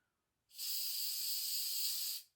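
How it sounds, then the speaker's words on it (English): Hairspray hisses from an aerosol can onto a synthetic wig in a single steady burst of nearly two seconds, close and clear after a moment of quiet. "I'm going to take some Hair You Wear hairspray."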